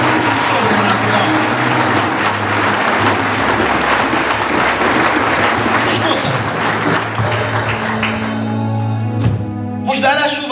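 Congregation applauding during a Portuguese-language church sermon, continuous loud clapping blended with sustained music and crowd voices, shifting near the end as the applause breaks up.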